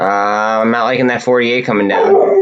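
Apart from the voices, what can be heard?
dog barking and whimpering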